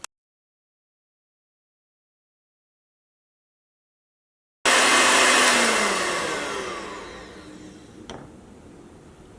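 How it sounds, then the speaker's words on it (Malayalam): Electric hand beater whipping chiffon cake batter until fluffy, starting abruptly loud after a silent stretch, a steady whirring motor drone that gradually eases in level, with a brief knock near the end. "ബീറ്റ് ചെയ്തിട്ട് നല്ല ഫ്ലഫി ആക്കിയിട്ട് എടുക്കണം. അപ്പോൾ ബീറ്റർ വെച്ചിട്ട് തന്നെ ചെയ്യണം കേട്ടോ."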